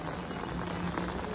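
Rain falls steadily on a stationary Sealdah-Ranaghat AC EMU local train, making a dense, even patter that fills the short stretch without pause and with no voices.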